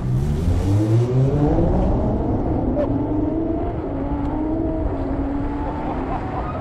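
Loud, continuous engine roar from a Tesla and a Lamborghini in a drag race, with rising whine tones sweeping upward as the cars accelerate hard, steady and close throughout.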